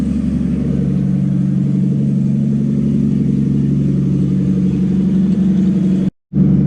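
An old Willys truck engine runs with a steady, low rumbling idle, loud and close, before it briefly cuts out near the end.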